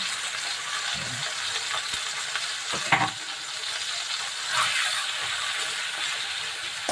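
Four pieces of chicken are dropped into a hot pan for chicken adobo and fry with a steady, close sizzle, broken by a few clinks and stirring sounds.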